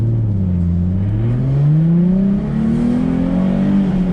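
A car pulls away hard from a standstill at a drifting school, its engine revving and climbing steadily in pitch as the clutch is let out; loud, close and continuous with no talking.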